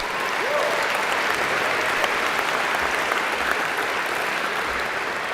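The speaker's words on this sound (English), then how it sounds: "Can we have one more round of applause for all of our inductees here today?" A hall of fame induction audience for a track team applauds steadily and fairly loudly as a dense, even wash of clapping that holds throughout without letting up.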